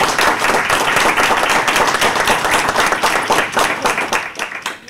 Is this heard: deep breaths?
no